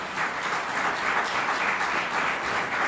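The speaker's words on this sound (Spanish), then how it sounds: "Dale un aplauso al Señor," A church congregation applauds during a sermon, sustained, even clapping from many people that fills the room without a break.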